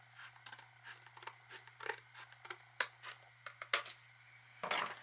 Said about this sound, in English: I'm going to trim just a smidge off here just so everything closes really smoothly